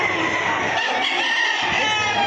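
A rooster crows among chickens at a busy fowl gathering, set against a continuous dense backdrop of clucking and farmyard noise at a steady level.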